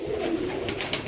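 Pet racing pigeons coo nearby, a low throaty coo held through the moment with faint chirps over a quiet background.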